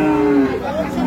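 A dairy cow lows briefly at a busy cattle market, a short drawn-out moo over crowd chatter and nearby voices.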